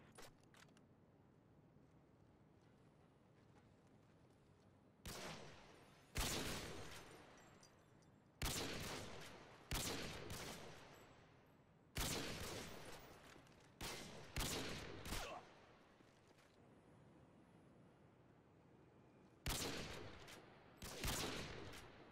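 Bursts of automatic gunfire in Call of Duty Modern Warfare 2, roughly a dozen sharp volleys of varying length separated by quieter gaps, loud and close against a faint background.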